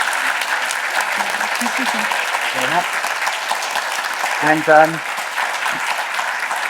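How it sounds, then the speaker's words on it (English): A lecture audience gives a steady round of applause for two speakers, Gemma and Amanda, the clapping continuous throughout while a voice speaks briefly over it. "Can I have a huge round of applause for Gemma and Amanda?"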